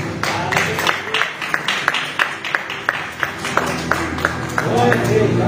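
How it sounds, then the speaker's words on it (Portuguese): A church congregation clapping for Jesus during a service, a run of distinct, ringing claps at a steady moderate pace, fairly close and loud, with a sustained tone and murmuring beneath and a swell of sound at the end. "numa linda salva de palmas para Jesus"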